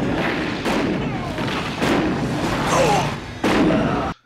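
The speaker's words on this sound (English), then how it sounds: "Cobra seems to hit someone with every bullet he fires." Gunfire from the 1986 Stallone action film Cobra: a dense, loud barrage of shots and booms layered over movie soundtrack noise, with sharp sharper reports standing out near the end.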